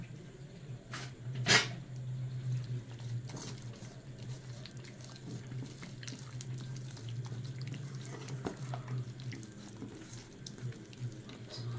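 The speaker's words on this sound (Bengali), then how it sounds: "জল দিয়ে দেব।" Water trickling from a tap into a bowl of paneer manchurian batter with ginger-garlic paste and salt, a soft continuous flow with a brief louder splash near the start.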